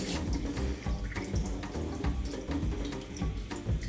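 Cooked spinach drains through a strainer as water gushes and splashes steadily for a few seconds, close and fairly loud, with no talking.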